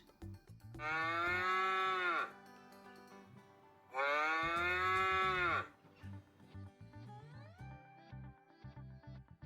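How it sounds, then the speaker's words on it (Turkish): Two long, loud moos from a cow, each lasting nearly two seconds and separated by a short pause, followed by quieter background sounds. "İnekler böyle ses çıkartır."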